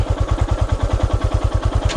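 A motorcycle engine putters at idle close by, a fast, even chugging pulse with a slight clatter, steady throughout.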